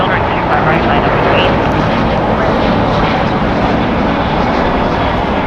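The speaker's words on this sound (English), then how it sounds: "Delta Airlines Flight 2253 off to Las Vegas. It's a Boeing 737-800, 23 years old." A 23-year-old Delta Boeing 737-800 departs Los Angeles LAX for Las Vegas, its engines producing a loud, steady, close roar throughout, with a voice talking over the noise.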